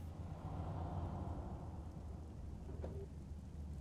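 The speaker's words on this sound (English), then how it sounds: "The rain was coming down in buckets" Steady heavy rain on a stormy night in the video game Fall of Porcupine, a dense continuous roar with a low rumble of thunder underneath and a brief sharper crack near the end.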